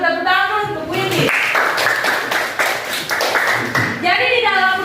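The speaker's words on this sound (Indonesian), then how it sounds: "tepuk tangan untuk Windy" A classroom of students applauds a classmate during a lesson on smoking, a burst of clapping roughly three seconds long that stands alone between stretches of a teacher's talk.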